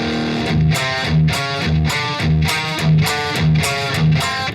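Heavily distorted electric guitar rhythm riff, a loud chugging low pattern with punchy accents repeating roughly every half second, played alone without any voice.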